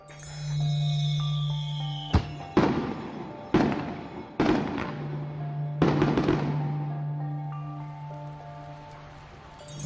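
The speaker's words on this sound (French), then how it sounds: "les retards vont communiquer le feu à une charge qui est à l'intérieur qui va faire exploser la bombe" Aerial firework shells from a professional pyrotechnic display burst in four or five sharp, loud booms spaced about a second apart, each leaving a rumbling decay over a steady low hum.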